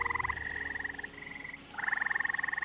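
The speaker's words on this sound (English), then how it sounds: "Seemingly out of nowhere, gray tree frogs were everywhere," Gray tree frogs at a pond giving repeated rapid trilling calls, one long trill after another, clear and fairly close over a quiet background.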